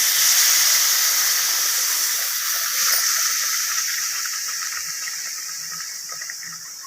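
Milk poured onto roasted semolina for rava kesari hisses and steams in the pan, a broad steady hiss that starts strong and slowly fades over several seconds.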